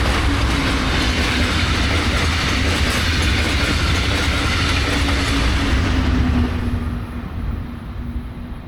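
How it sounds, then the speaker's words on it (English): A Brightline passenger train with a Red Bull wrap rumbles southbound past close by, loud and steady with rattling wheels, then fades slightly as it moves away. "And now for my final 2 trains, seen at Gusset Boulevard and Rockledge."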